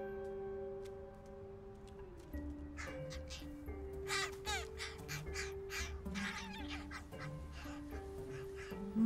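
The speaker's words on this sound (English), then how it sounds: "test crows, who hatched 2 weeks ago, are growing up fast" Young crows a couple of weeks old, calling in rough rasping caws that come in clustered bursts. Underneath runs a sustained tonal background, and the calls grow louder toward the end.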